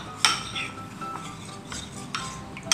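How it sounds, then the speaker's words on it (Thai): A spoon stirs cornstarch and milk in a bowl for homemade coconut ice cream, with a few close, sharp clinks against the side and a soft scraping swish between them. "คนแป้งข้าวโพดกับไอ้ตัวนมนะครับเข้าด้วยกันเลยเนาะ"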